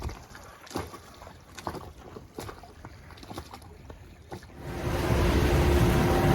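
Blustery wind of about 15 knots blows head-on over a boat at sea, roaring steadily with buffeting gusts and creaks, then swelling into a louder, fuller rush toward the end.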